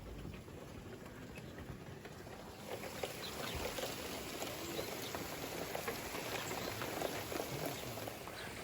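Torrential rain pouring down outdoors on a Wednesday morning, a dense, steady hiss of heavy drops drumming on surfaces, alone and unbroken with no voices.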